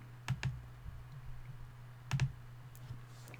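A few quiet, close computer mouse clicks land in two small pairs over a faint steady hum, with no voice over them.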